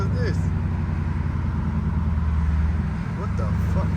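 Rush hour road traffic heard from inside a car, a continuous low engine and road rumble with passing vehicles droning steadily throughout.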